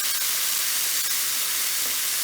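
Pork rinds sizzle in a hot pan while being stirred, a dense continuous frying hiss up close with faint scraping touches.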